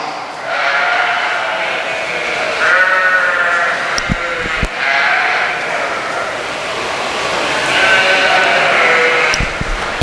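Sheep bleat repeatedly at a livestock show, several loud overlapping wavering calls close by with short pauses and a couple of sharp knocks.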